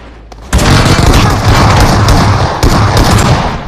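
Sniper gunfire in the BGMI battle royale game erupts as a loud, dense blast of shots and booms after a short quiet start, then continues as sustained gunfire.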